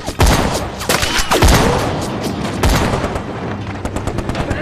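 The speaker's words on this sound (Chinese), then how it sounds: "至少2挺机枪。" Sustained machine gun fire from at least two guns in a war drama battle scene, loud and close, with rapid bursts and sharp cracks layered over continuous rattling.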